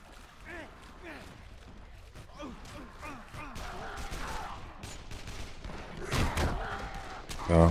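Scattered gunshots in the zombie video game Dead Island, mostly muffled and distant, with a closer burst near the end, under game noise and someone talking over it.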